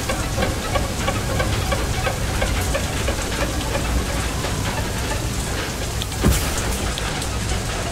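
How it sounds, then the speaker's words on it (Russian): Heavy rain pours in the video game FAR: Lone Sails, a dense continuous hiss of downpour with a brief louder crack near the end, steady and loud throughout. "Там дождик на улице"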